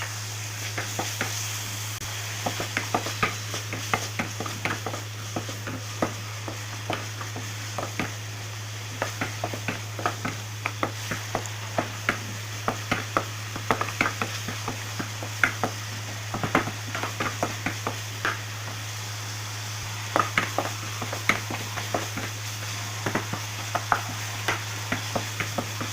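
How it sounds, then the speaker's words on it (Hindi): Chopped onions fry in a pan toward golden brown for moong dal, a continuous sizzle under a steady low hum, with rapid irregular clicks and taps of stirring throughout. "प्याज को हम अच्छे से फ्राई कर लेंगे"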